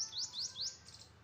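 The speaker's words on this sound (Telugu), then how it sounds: "వాటి మీద పక్షులు అరుస్తున్నాయి." Birds in tamarind trees on a village morning give a quick run of bright rising chirps, three or four close together, then softer fading calls, with no talking.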